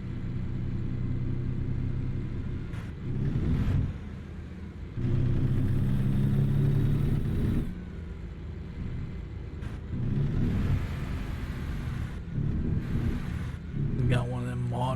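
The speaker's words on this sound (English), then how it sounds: "We got one of them modern engines, so Jake's won't sound as good as the last" A modern truck engine in American Truck Simulator drones at low pitch in steady stretches that swell and ease with throttle changes, moderately loud, with someone talking over parts of it.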